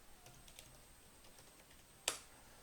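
Computer keyboard typing while a login email is entered, a few soft, scattered key taps followed by one sharper, louder keystroke near the end, with no voices.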